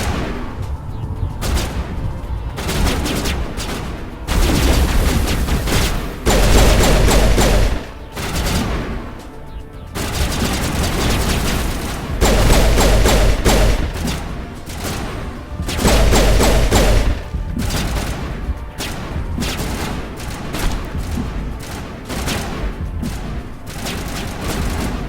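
Gunfire in the video game Mass Effect, with repeated loud bursts of rapid shots and heavy thuds in an almost continuous rhythm across the clip, and hardly any talk.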